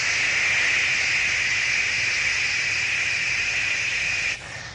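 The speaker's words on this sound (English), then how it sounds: "white noise is wide spectrum sound" Steady broadband hiss, loud and even, holding constant for several seconds before dropping slightly at the very end.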